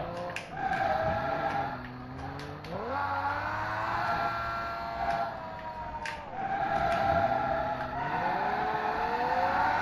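2017 Chevrolet Camaro driven in the BeamNG.drive video game, repeated engine revs climbing sharply then dropping through gear shifts, game engine sound at moderate level without speech.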